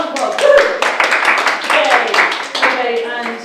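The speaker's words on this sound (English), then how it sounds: "well done, round of applause" An audience breaks into brisk applause, a dense patter of hand claps that swells and fades over a few seconds.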